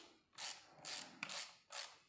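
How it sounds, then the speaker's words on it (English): Ratcheting clicks from a 17 mm socket set working on a Kubota mini digger rubber track, four short bursts of close, quiet clicking spaced roughly half a second apart. "This is where you need your socket set. This one is a 17 mil."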